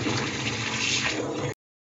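Mutton liver being washed and squeezed by hand in rice-rinse water, a steady close sloshing and splashing of liquid with no talk, ending abruptly.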